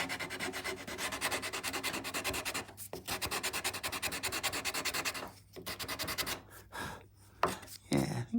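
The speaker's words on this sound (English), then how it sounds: "onto the sanding block" Steady, rhythmic rubbing of wood against a sanding block while shaping a wooden neck, close and loud, with brief pauses and a few knocks toward the end.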